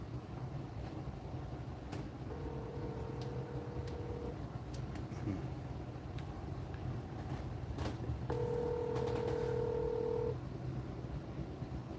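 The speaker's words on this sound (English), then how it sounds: "you might want to dial the right number" Telephone dialing tones, two steady electronic tone segments sounding moderately over a low background hum with no talk.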